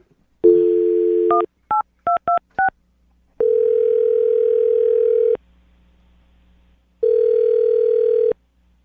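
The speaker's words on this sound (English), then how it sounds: "I'm going to dial the phone number" A telephone dialing a number: a steady dial tone, then a rapid run of about six touch-tone keypad beeps, followed by two long ringback tones separated by silence, clear and close with no talking.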